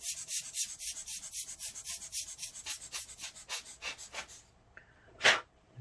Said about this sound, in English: I'm going to have to use something to blow that dust out. Maybe I'll use my air blower